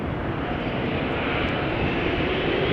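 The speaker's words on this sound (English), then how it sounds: "And The KLM A330 taking a turn," A KLM Airbus A330 airliner turning at Amsterdam Schiphol, its jet engines producing a steady, loud, broadband roar that holds evenly throughout with no voices.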